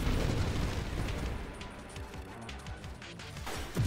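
Explosions in the space shooter Nova Drift, a dense, continuous barrage of booms and crackling blasts that stays loud throughout, with a sharper burst at the very end.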